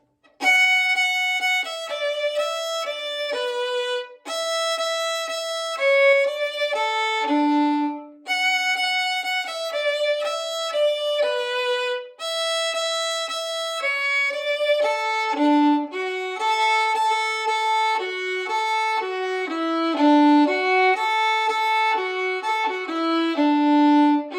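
A solo fiddle plays a lively tune, with quick bowed notes running up and down and short pauses between phrases.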